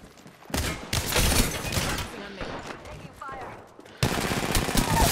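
Dense gunfire from the battle royale video game Apex Legends, loud rapid bursts stacked with game effects and mechanical clatter, cutting out briefly then resuming hard near the end, with a player's voice talking over it.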